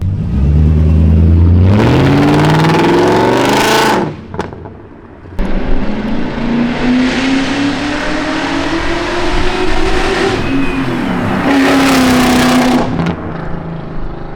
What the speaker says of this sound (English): Hey guys, I'm gonna go haul ass right now and see how this thing sounds.